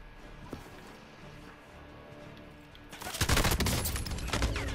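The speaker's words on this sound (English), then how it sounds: "they're shooting at me." Gunfire in the video game Call of Duty: Modern Warfare, quiet at first, then bursting into a loud, sustained volley of dense automatic shots during the final two seconds.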